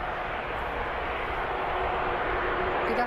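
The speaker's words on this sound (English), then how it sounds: "the A380 departure" Airbus A380 departing Birmingham Airport, a steady broad jet roar at moderate distance that holds level and slightly swells toward the end.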